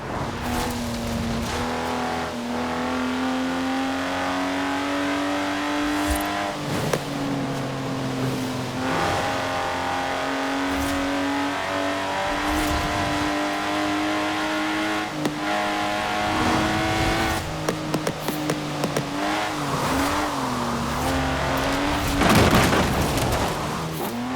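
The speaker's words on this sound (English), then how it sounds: "This is a car that demands you drive it well." A race car engine revs continuously in Forza Horizon 4, its steady droning pitch rising and dipping through gear changes with occasional bumps and thuds, loud and close throughout.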